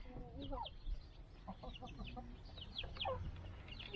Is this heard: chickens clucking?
yes